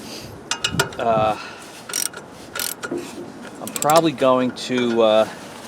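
A three jaw puller being worked on a stuck pulley from a Scott's lawn tractor engine gives close metallic clicks and ratcheting clanks in short bursts, with someone talking over much of it.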